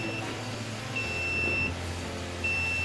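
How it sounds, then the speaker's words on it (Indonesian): A buzzer on a river trash-handling control panel, signalling a system fault, sounds in two steady high-pitched beeps over a constant low machine hum, then starts again at the end. "maka buzzer ini akan bunyi"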